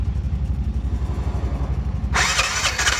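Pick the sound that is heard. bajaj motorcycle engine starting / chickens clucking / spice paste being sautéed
bajaj motorcycle engine starting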